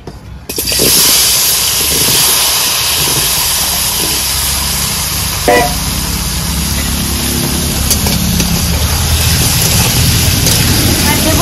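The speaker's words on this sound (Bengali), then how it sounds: "এবার কচুগুলো ভেজে নেব।" Taro pieces frying in hot oil give off a loud, steady hiss and sizzle that starts abruptly and keeps going without a break.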